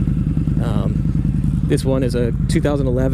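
A 2011 Harley-Davidson V-Rod with a liquid-cooled 1250cc engine idles with a steady, loud, throbbing exhaust rumble right up close, while someone speaks over it.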